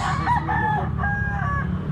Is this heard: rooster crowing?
yes